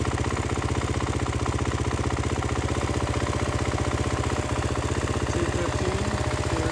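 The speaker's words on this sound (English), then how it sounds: "we'll see the cooling fan kick on with it here" A 2022-or-later Beta RR four-stroke dirt bike idles steadily with a fast, even engine pulse, close and continuous, while its cooling fan runs on top as a faint whir.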